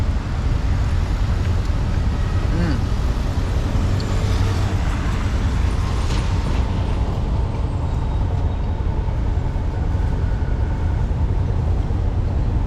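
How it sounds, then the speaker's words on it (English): A tuk-tuk rolls through busy Phnom Penh city traffic in Cambodia, with a steady, loud engine drone and road rumble that continues without a break. "Are you enjoying the tuk-tuk ride?"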